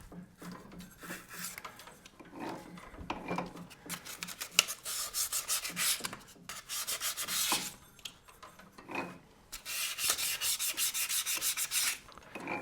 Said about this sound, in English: I'm just going to take some light sandpaper and I'm just going to rub